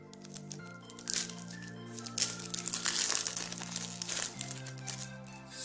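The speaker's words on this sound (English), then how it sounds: "I cannot open these boosters without the help of a scissors." Sticker booster packs are opened with scissors, giving close, quiet crinkling and rustling of foil wrappers with small snips and crunches.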